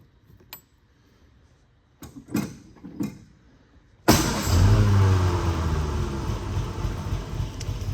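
A 1947 MG TC cranks over in a cool garage after sitting for days, with a few short starter bursts and clicks before the engine catches and settles into a loud, steady rough idle that continues to the end.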